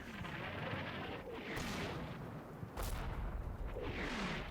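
Mortar rounds exploding on target in a war video game modelling a US Army Stryker infantry assault on a built-up area, heard as deep booms and rumbling blasts with incoming whooshes over continuous battlefield noise.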